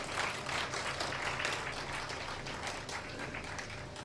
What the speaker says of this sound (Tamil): இந்த கைத்தட்டு பத்தாது அப்பாக்கு.